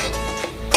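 A spoon stirring bottle gourd and flour in a pan, with a soft scrape and a sharper clink of metal at the end of one brief stroke, heard up close.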